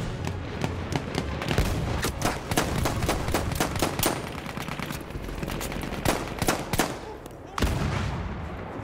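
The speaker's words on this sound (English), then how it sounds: "The enemy is being halted by our artillery barrage." Battlefield 1 battle scene with an artillery barrage and gunfire: dense, continuous volleys of rapid shots and booming blasts, with a heavy low-end explosion near the end, loud and close throughout.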